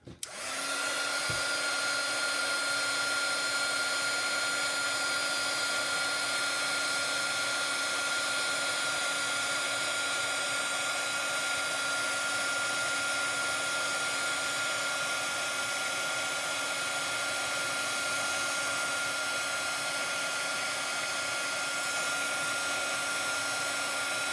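A heat tool blows over embossing powder, a loud, steady fan-and-heater whine starting with a click and holding constant and uninterrupted throughout.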